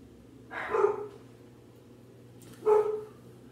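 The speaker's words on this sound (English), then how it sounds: "Excuse my dogs in the background" Two separate dog barks about two seconds apart, muffled and somewhat distant, with a quiet pause between them.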